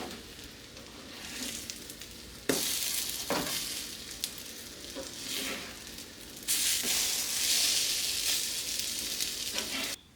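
French toast slices sizzle steadily in a hot pan, a continuous crackling fry that jumps louder twice as more batter-soaked bread is added or turned, with no talking.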